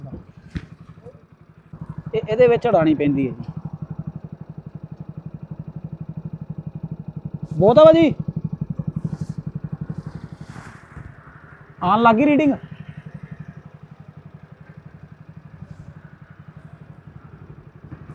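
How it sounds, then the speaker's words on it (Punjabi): A motorcycle engine idles steadily with a low, even rumble throughout, while someone speaks in short bursts over it, on the way to the Kangra valley in Himachal. "ਮੋਟਰਸਾਈਕਲ ਅਸੀਂ ਕਰਤਾ ਚਾਲੂ"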